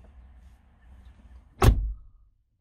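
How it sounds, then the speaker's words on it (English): A 2016 Jeep Wrangler door thuds shut once near the middle of an otherwise quiet stretch, a short loud broadband knock with a brief rumble after it and no talk. "Open the door."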